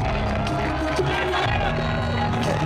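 A crowd at a strongman competition in Scotland cheers and whoops in a steady, moderately loud wash of voices, with scattered shouts rising above the general roar.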